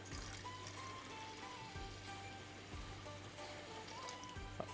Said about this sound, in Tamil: முந்நூறு எம்எல் தண்ணி ஊற்றிருக்கோம்